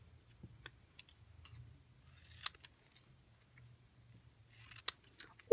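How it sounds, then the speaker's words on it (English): Scissors trim paper close around stamped words during a Stampin' Up watercolor card project, making a few soft, scattered snips and clicks in an otherwise quiet room. "So I'll just trim closer to the words."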